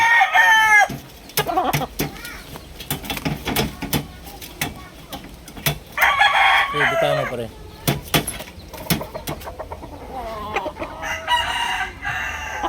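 Gamecock roosters, a two-year-old golden sweater among them, crow and cluck repeatedly in a lively, close cluster. Someone speaks intermittently over the birds.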